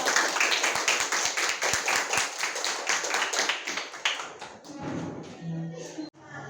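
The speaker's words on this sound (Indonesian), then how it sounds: "Tepuk tangan dong" Classroom students clapping together in a burst of dense, rapid hand claps that fills most of the moment, then thins into a few scattered claps and murmuring voices near the end.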